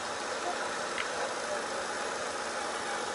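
A steady, low idle from a 1.6-litre petrol car engine, a dull continuous rumble with no speech over it.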